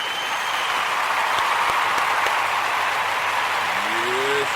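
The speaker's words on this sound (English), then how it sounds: "applause" A congregation claps for a group of young people, a continuous broadband patter of many hands held at an even level throughout, with a brief rising whistle-like tone near the end.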